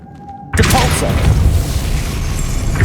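A loud, deep magical blast bursts out suddenly in Hogwarts Legacy as the Depulso spell is cast. A rumbling whoosh then trails off over a couple of seconds.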